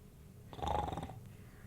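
A single drawn-out snore imitated by a human voice, a rough rumbling breath lasting under a second, fairly close and moderately loud.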